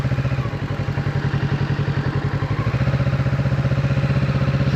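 A motorcycle engine runs close and loud with a fast, even thumping pulse as a little throttle is applied in first gear, holding steady throughout.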